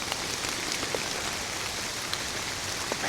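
Steady rain falls in the woods during deer hunting from a treestand, a dense continuous patter of drops with occasional louder close drips, and no talk.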